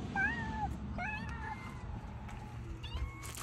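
A kitten meows several times in rising, wavering cries, fairly close, over a steady low background rumble in an outdoor garden setting at Huntertown Gardens in Laotto.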